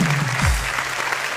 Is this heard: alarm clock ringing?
no